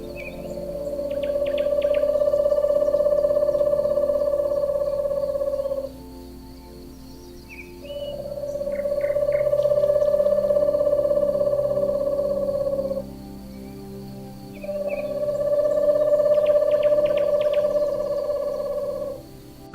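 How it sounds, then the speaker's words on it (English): Three long, sustained owl hoots ring out in turn, each a steady tone lasting several seconds, separated by brief pauses, with faint chirps layered above. "Owl."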